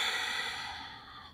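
Heavy breathing after an advanced mat Pilates exercise, a single long exhale close to the mic that fades out over about a second.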